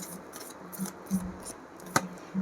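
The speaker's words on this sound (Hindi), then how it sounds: "एक मिनट, कार्ड्स अच्छे से शफल कर लेते हैं।" Tarot cards being shuffled by hand, a quiet run of short, papery riffling bursts with gaps between them and one sharper snap near the end.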